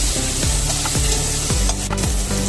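Frozen peas and spices being stirred and sautéed in a hot pan with ghee, turmeric, coriander and cumin powder, loud close sizzling with repeated scraping strokes of a spoon against the pan.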